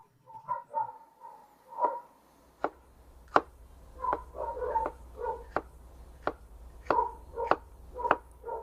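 A knife chops through a sweet pepper on a cutting board, giving about a dozen sharp, crisp knocks at an uneven pace. Faint tonal background sounds run underneath, and no one speaks.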